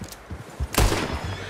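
A single loud gunshot cracks out in Red Dead Redemption 2 during a deer hunt, with a booming low thump and echoing tail, preceded by soft thuds and faint ambient noise.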